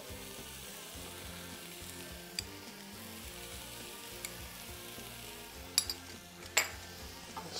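Peppers and tomato with sweet paprika and flour fry in a pan with a soft, steady sizzle, punctuated by a few sharp clinks of a utensil against the pan.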